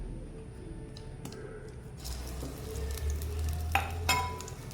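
Jackfruit paste frying in ghee in a pan gives a steady soft sizzle with occasional stirring scrapes and clinks, close and continuous.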